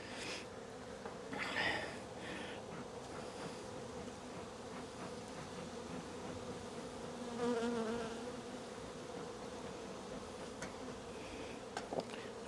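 Honeybees from a strong hive buzz steadily during its first spring inspection, a close, continuous drone with individual bees whining past now and then and faint handling noises from the frames.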